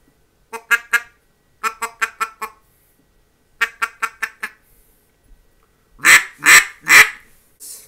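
Buck Gardner Mallard Magic acrylic double reed mallard duck call giving crisp quacks: a two-note call, a run of four, another run of four, then three louder drawn-out raspy quacks, close and alone in silence.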